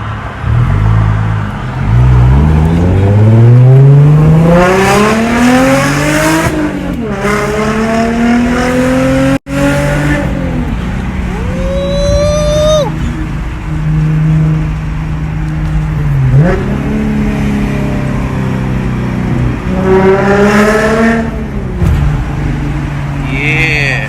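A 2009 W204 Mercedes-Benz C300 Sport with a six-speed manual and limited-slip differential accelerates hard and loud, engine revs climbing and dropping through several quick gear shifts, with a squeal of tires and someone speaking over it.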